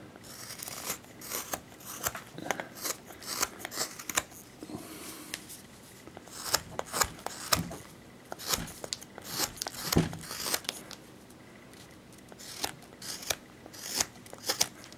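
Sharp scraping and cutting strokes from a chisel shaving into pumpkin flesh, worked by wrist, come in an irregular string of close, crisp bursts with short pauses between them.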